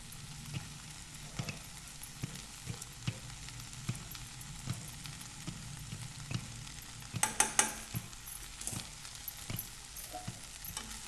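A spoon stirs dry okra masala in a frying pan: steady rhythmic scrapes and clinks against the metal over a soft sizzle, with a louder flurry of strokes near the end.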